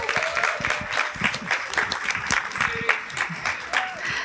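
An audience claps enthusiastically for panelists at a New York Fashion Week 2024 panel discussion, a dense, steady burst of applause with scattered whoops and voices mixed in throughout.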